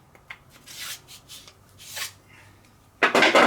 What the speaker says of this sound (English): ream this out.